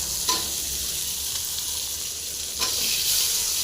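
Bitter gourd and tomato fry in a pan with a constant loud sizzle, and a couple of brief stirring scrapes break through the frying hiss.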